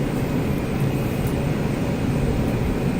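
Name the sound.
aircraft engine before takeoff in Microsoft Flight Simulator 2020 video game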